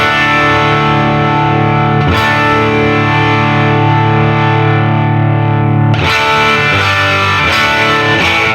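An electric guitar played through a Fender Deluxe Reverb amp at bedroom level with the treble raised, sustained distorted chords ringing bright and loud, with a fresh strum partway through.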